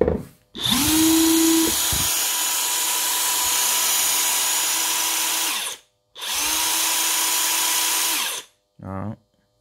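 A DeWalt DCF899 cordless impact wrench on a 5Ah battery runs loud and close in three bursts: two long whirring, hammering runs of about five and two seconds, then a brief final blip, with short silences between.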